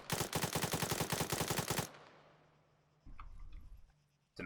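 A fast, evenly spaced burst of about fourteen loud rifle shots fired from a prone position in Arma 3, cutting off abruptly into fading echo, then faint movement noises.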